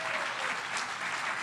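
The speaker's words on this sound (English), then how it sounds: "can we all give a big round of applause for this wonderful group?" An audience applauds a panel at a health technology event, a dense even wash of many hands clapping for the whole short stretch with no voices over it.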